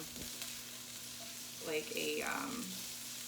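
Vegetables such as peppers frying in a pan for a General Tao dish: a faint, steady sizzle with a brief stir partway through, heard quietly up close.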